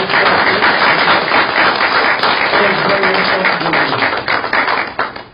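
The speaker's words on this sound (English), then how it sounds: "Maybe one more round of applause for all the great kids." Dense crowd applause, loud and continuous, many hands clapping at once before tapering off at the end.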